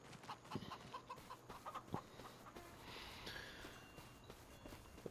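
Chickens cluck faintly in a farmyard in the video game Farming Simulator 25, with scattered soft clucks and light footstep-like sounds over a quiet ambient background.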